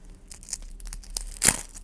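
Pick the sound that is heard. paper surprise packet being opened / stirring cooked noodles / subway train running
paper surprise packet being opened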